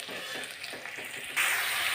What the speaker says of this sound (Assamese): গোটেইখিনি তেলতে মই পিঁয়াজ দি দিলোঁ